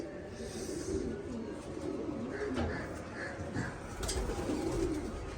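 Pigeons in a loft coo in soft, repeated low calls, several birds at once, steady and moderately close, with light rustling and faint chirps around them.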